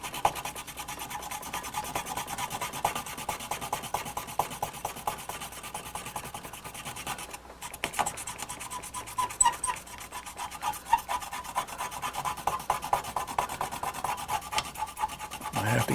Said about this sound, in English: let me go at it with this fiberglass pen a little more